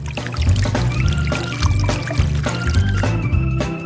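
Liquid chocolate pouring and trickling as a ribbon is dipped into a chocolate fountain, a steady close-up flowing stream with dribbles and drips, no talking.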